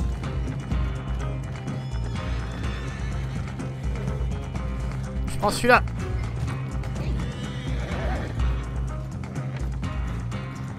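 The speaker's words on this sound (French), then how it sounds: "On prend les chevaux." Horses trot and neigh in the Red Dead Redemption 2 Online beta on PS4 Pro: steady clip-clop hoofbeats run throughout, one loud whinny rises midway, and players talk over the game sounds.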